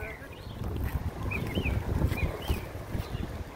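Outdoors, a few birds let out brief whistled chirps over a low wind rumble, with faint voices in the background.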